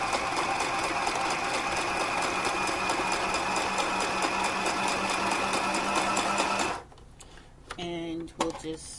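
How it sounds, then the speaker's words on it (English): Sewing machine stitching doll clothes, a steady rapid mechanical chatter running close and loud, then stopping and followed by a few small clicks and handling noises. "Let me finish sewing here."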